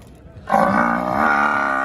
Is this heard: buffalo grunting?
yes